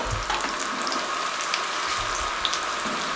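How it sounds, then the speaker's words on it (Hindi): Potato fries frying in very hot oil over a high flame, a steady dense sizzle and crackle that carries on without a break, close up with no talking. "ऑयल फुल तेज़ गर्म है, इसमें डाल दें बिस्मिल्लाहिर्रहमानिर्रहीम और इसको 4 मिनट मज़ीद इसमें फ्राई होने दें।"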